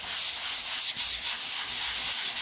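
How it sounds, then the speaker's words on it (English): Hand sanding of a patched drywall seam with a sanding block worked in circular strokes, a steady close, airy scratching rasp with rhythmic pulses from each pass, no voices. "But sanding, go in a circular motion, do it by hand."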